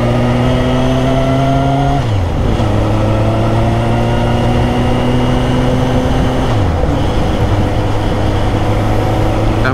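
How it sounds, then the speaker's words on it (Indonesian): Suzuki GSX-R1000 motorcycle at full throttle on a wet road, a loud high-pitched engine howl that climbs steadily through the gears with two brief dips at shifts, recorded close with wind noise. "Kita gas full lagi"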